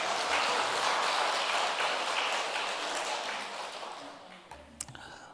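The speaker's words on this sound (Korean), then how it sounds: "이럴 때 박수 한번 해야지" A church congregation at a Wednesday worship service claps together in dense, steady applause that gradually fades away, ending with a few scattered taps.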